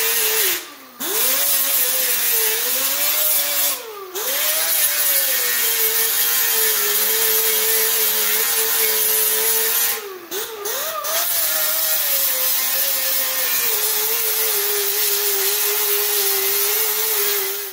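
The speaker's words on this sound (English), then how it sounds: "I'm gonna grind all the heads off of this off nice and flush" An angle grinder grinds rivet heads flush on a recycled metal replacement panel with a loud, steady whine that dips briefly a few times as the disc is lifted and set back down.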